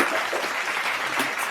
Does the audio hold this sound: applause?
yes